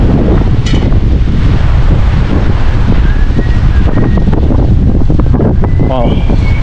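Strong night wind buffets the microphone on a city street, a loud, continuous low roar filling the whole stretch with gusty rumbling; faint higher tones drift through near the end.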